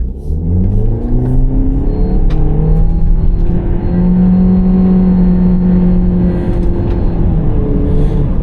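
A 2025 Mitsubishi Eclipse Cross engine accelerating on an open road, revving up loud and close in a rising, steady drone with a whirring tone, with no talking over it.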